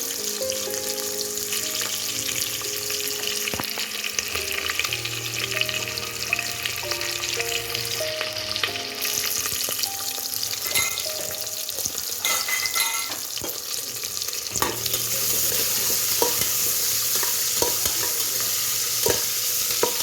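Onions and green chillies fry in oil for egg biryani, a dense continuous sizzle with frequent stirring scrapes and occasional utensil knocks, close and steady throughout, no voices.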